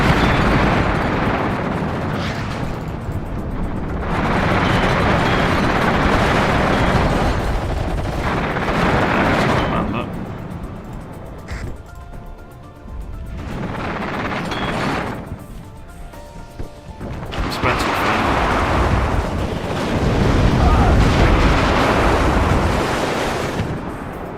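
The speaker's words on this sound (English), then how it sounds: "Heavy artillery is starting to land" Heavy artillery shells land in the WARNO war game as repeated loud, rumbling blasts that swell and fade in long waves and run continuously without speech.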